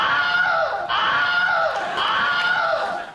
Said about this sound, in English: a scream sound effect that has appeared in over 150 films to date. It's called the Wilhelm scream.